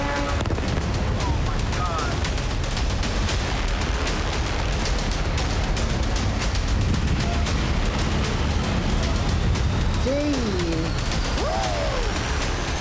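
Missile and drone explosions in the UAE, heard as rapid crackling bursts of distant blasts in continuous succession, with voices calling out near the end.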